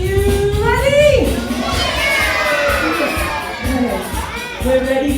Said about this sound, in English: we're all going to shout jump and clap our hands at the same time